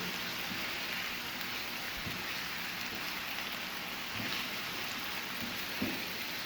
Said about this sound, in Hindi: बहुत ही ज़बरदस्त सी खुशबू आ रही है लहसुन और अदरक की जब ये फ्राई हो रहा है।